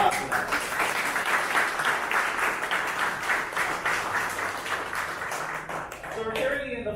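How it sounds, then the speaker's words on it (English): Audience applause at an art show opening reception, a dense steady patter of many hands clapping for several seconds, with voices mixed in near the end. "Let's give a round of applause for that."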